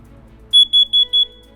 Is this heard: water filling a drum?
no